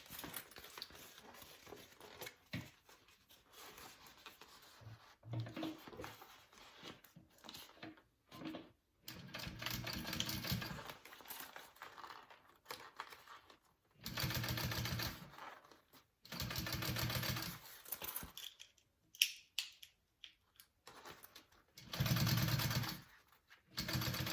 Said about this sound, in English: Okay, let's top stitch.